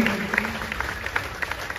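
Scattered, fairly faint clapping from an audience at an award ceremony in Sivasagar, with individual hand claps popping out over a low murmur of the room.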